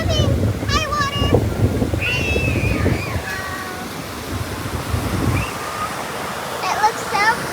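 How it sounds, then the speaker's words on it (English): Waves wash in at a beach with a constant broad roar of surf, while a high child-like voice chatters and squeals over it and a few breaks swell louder. "Oh, look at big wave. It's coming."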